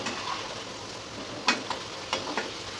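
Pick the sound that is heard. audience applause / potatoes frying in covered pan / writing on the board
potatoes frying in covered pan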